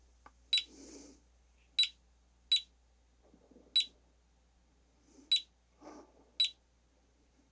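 A radiation detector clicks out sharp, isolated beeps at irregular intervals beside a Pentax camera lens, with faint rustling handling noise between them.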